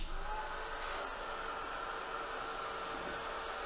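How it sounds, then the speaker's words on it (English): A heat tool blows steadily to dry distress ink on a handmade steampunk card, a constant loud whooshing roar that holds unchanged throughout with no talk. "I'm gonna dry this with my heat tool."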